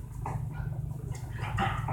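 A pet dog barks in short bursts and whimpers indoors, the yelps close and fairly loud, with no talking over them.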